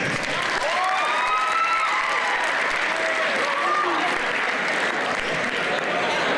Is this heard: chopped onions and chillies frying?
no